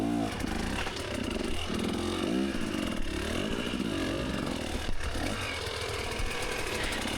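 A revving dirt bike engine drones steadily and loudly throughout during the Tough Like RORR race, with rising and falling pitch as the throttle works, close by.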